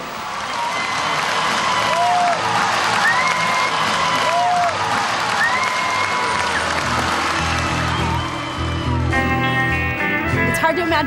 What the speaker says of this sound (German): Man hört die Zuschauer, wie sie klatschen und tanzen.